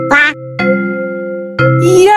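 Loud, harmonic duck-like quacks come in three close bursts, with a long sustained nasal call in the middle, clear and near with no background noise.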